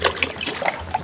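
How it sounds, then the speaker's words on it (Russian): Water trickles and splashes as it is poured into a 16-litre kazan for beshbarmak outdoors in the mountains, a close, continuous gurgling stream. "Залили 5 литров воды."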